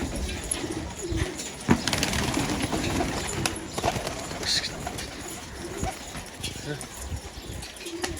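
An old ink pigeon coos in soft repeated bursts close by, with a person talking over it and some rustling throughout.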